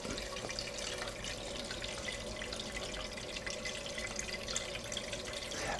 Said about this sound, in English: allow the tap water to go through the Enagic Kangen unit